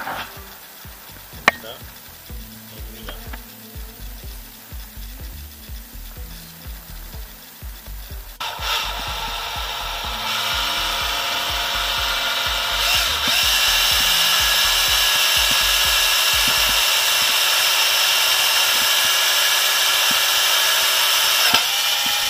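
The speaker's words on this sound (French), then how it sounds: "sans cette technique là, vous allez galérer à percer votre guidon" A power drill bores into the handlebar of a Honda CB500 motorcycle during a handlebar replacement, starting with scraping and rubbing taps, then settling into a loud, continuous whirring grind that runs steadily for the remaining fourteen seconds.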